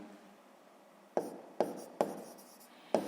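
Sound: writing on paper during a math exercise

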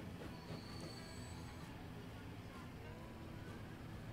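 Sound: train running on rails in Transport Fever video game

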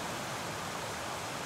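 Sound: waterfall in Connecticut

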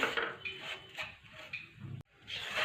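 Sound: roasting dried dates in a pan on medium gas

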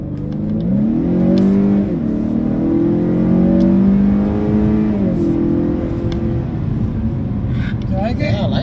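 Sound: 2018 Honda Accord 2.0T accelerating at half throttle in sport mode

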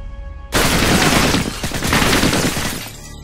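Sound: shotgun fire in the video game MW2

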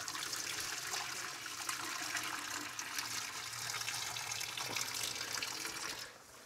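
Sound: draining boiling water off cooked squid

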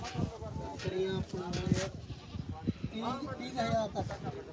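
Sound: goats bleating at a livestock market

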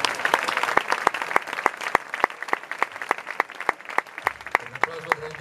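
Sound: audience applause

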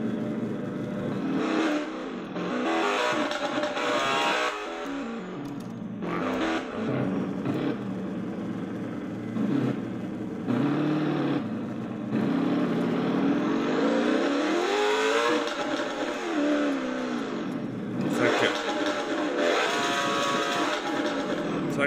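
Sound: car engine revving in a racing video game

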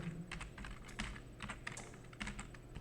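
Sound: typing on a computer keyboard

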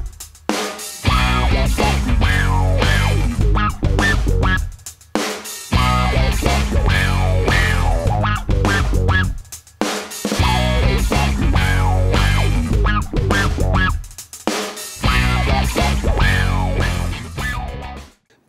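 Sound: electric guitar through envelope filter pedal with drive

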